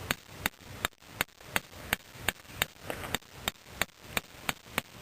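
A stake being driven into the ground to secure a tarp teepee, heard as a regular run of sharp, close hammer blows roughly every half second with a ringing top end.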